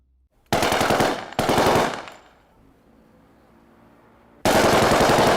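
Several bursts of rapid automatic gunfire, loud and close, with a ringing decay between volleys before another sustained burst; the 1984 shooting assassination of Indira Gandhi by her two Sikh bodyguards.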